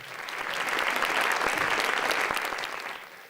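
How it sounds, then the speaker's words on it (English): An audience at a city employee awards ceremony applauds volunteers, with steady, full clapping that swells and then fades gently over a few seconds. "Would you give them all a round of applause,"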